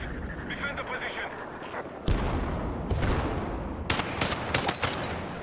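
Video-game gunfire sounds in bursts of loud cracks and rumbling blasts over constant battlefield noise, with a voice talking throughout.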